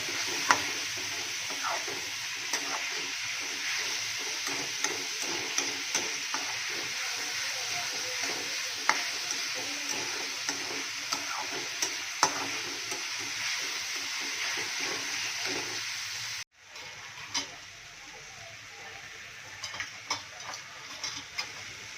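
Tomatoes and green chillies frying in a pan for a home-cooked meal, with steady loud sizzling and occasional stirring scrapes that runs unbroken, then drops abruptly near the end before softer sizzle resumes.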